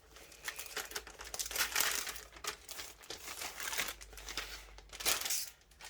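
Plastic packaging crinkles and crackles up close as a diamond-painting canvas kit is drawn out of its wrapping, in uneven bursts of rustling with short pauses.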